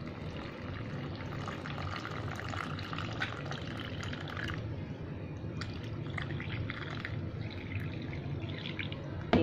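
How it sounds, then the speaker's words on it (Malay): Water poured steadily into a cup of cocoa powder and Milo mixture for an eggless batik cake, a continuous close splashing pour lasting several seconds with no talk. "kita tambah air"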